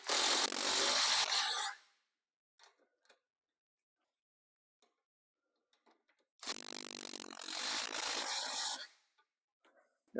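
A power tool runs in two long bursts, tightening a ball joint bolt on the front control arm of a 2012 Mercedes S550, with a few faint clicks and taps in the quiet stretch between.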